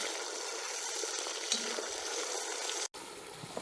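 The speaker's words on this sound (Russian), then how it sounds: "Пока жарится мясо" Meat sizzles and fries in a kazan set over an open campfire, giving a steady close hiss with a few soft stirring clatters and a brief cut near the end.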